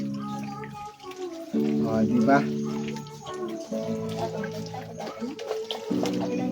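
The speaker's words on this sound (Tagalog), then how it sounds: "Lagyan natin ng tubig." Water is poured into a cooking pot of salted palm-heart vegetables, a steady liquid splash close by, running under a voice as she talks.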